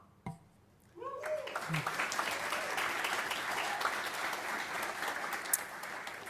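A brief burst of speech gives way to steady, dense clapping from an awards ceremony audience honouring young climate innovators, holding at an even level for several seconds.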